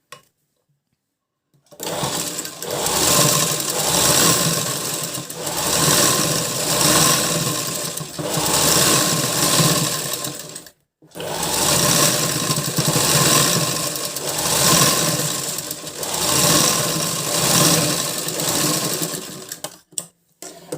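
A sewing machine stitches a blouse in two long, loud runs of rapid rhythmic whirring, each around nine seconds, separated by a brief pause, close and without talk.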